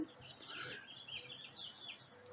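Faint birdsong, with a few chirping calls and short trills over a soft, constant background hum of a nearby freeway.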